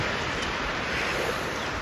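Heavy rain pours in a steady, dense hiss outdoors while vegetables are loaded onto a pickup truck, with no voices and no pauses.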